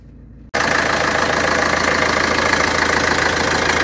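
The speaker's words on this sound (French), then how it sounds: "Un beau petit moteur." A small diesel engine in a camper van starts abruptly and settles into a loud, close, steady idle with an even, rapid chugging pulse.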